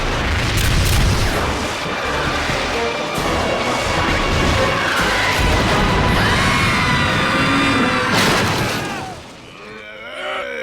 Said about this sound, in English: Fire at those zombies in Pork Belly!